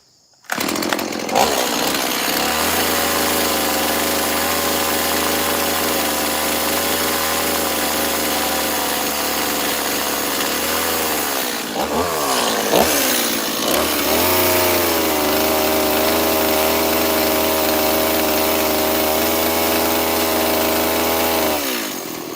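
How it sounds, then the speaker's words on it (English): A chainsaw cleaning up a wooden bear carving runs loud and close, holding a steady high whine with a brief drop and rev around the middle before settling back to full speed. "Now I'm gonna clean that up a little bit with the saw."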